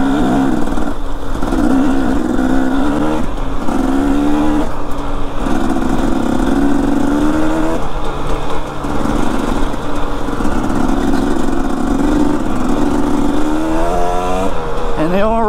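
Dirt bike engine running steadily out in the desert, a continuous buzzing drone with shifting pitch as the rider moves, close and loud throughout with wind noise and no talking.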